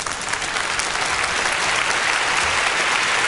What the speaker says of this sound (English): Extended applause for you today.